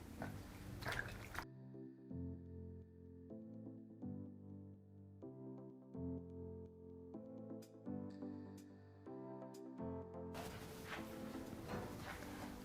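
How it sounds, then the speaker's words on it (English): Hand-rinsing dried tilapia fish in water: soft splashes and drips, then a quiet stretch of light sloshing, with louder splashing at the start and end. "So I'll give them a second rinse. This time round with just my bare hands."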